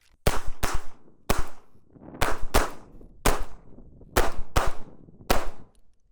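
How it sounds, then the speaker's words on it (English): A Springfield Armory Hellcat .380 pistol fires nine loud, sharp shots across three targets in a repeating pattern: a quick double, then a single, three times over, with short pauses between each group. "All alpha with the Springfield Hellcat and 380, so just a very shootable pistol."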